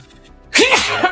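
After a brief quiet moment, a single loud sneeze bursts out close by.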